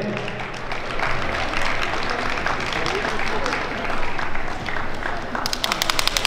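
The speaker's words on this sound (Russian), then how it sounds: "Спасибо, аплодисменты." A crowd applauds at a Latin dance competition at the 2019 Minsk Open Dance Festival, a dense, steady wash of clapping that holds for several seconds, with a murmur of voices mixed in.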